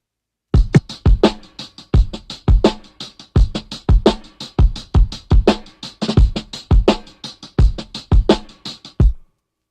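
A punchy drum break, bounced at low tape speed, plays alone, with dense, regular kick and snare hits driving a steady groove, heavy and slightly muffled in tone.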